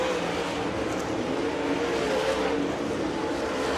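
Brandon Overton's Wells dirt late model race car on an Infinity chassis at Eldora Speedway, a continuous engine roar mixed into a broad crowd-and-track wash, steady and moderately loud with no clear pass-by.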